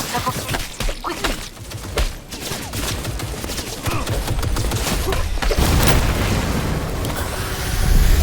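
Dense gunfire from a firefight in Cyberpunk 2077, with sustained bursts and booming impacts layered over a loud, busy game soundscape that swells toward the end.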